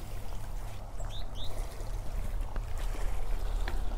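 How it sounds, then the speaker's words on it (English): Gentle water laps and trickles at the reedy shore of the Sea of Galilee at sunrise, a soft continuous wash with low rumble beneath and a few faint bird chirps. "You can hear the water, I imagine."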